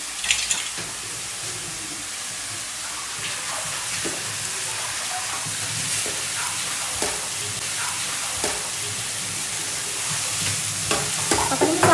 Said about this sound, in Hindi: दीदी ने तड़का तैयार कर लिया है और अब इसमें डालेंगे बुकड़ियाँ